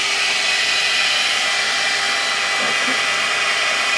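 GHD Helios hair dryer blow-drying curly hair, a loud steady airy whoosh that runs without a break close to the microphone.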